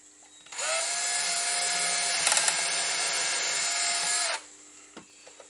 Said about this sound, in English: holding on of the piece, making sure it's in the right position, and drilling of the hole